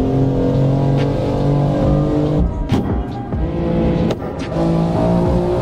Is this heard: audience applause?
no